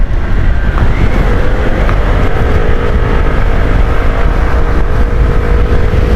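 A QJMOTOR Fortress 160 motorcycle cruising at speed on a test ride, its engine droning steadily under heavy wind rush against the microphone, loud and close with no talk.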